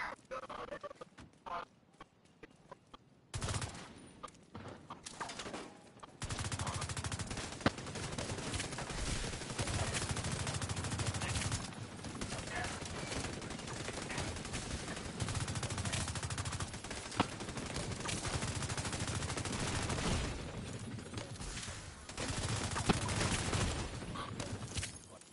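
Shotgun blasts in The Division 2, repeated loud sharp shots firing in irregular bursts over dense game noise and a low rumble.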